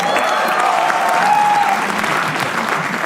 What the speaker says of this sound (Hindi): तालियां इनके लिए प्लीज।